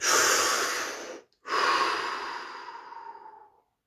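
A single deep breath drawn in slowly and released in a long, steady exhale after a brief pause, close and clear with no talking.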